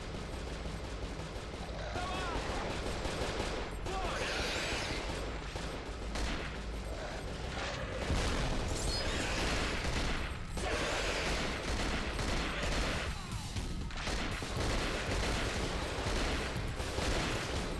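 Sustained gunfire from soldiers opening fire in the survival horror game Cold Fear, a dense, continuous crackle of shots and bursts lasting throughout with a game soundtrack and voices underneath.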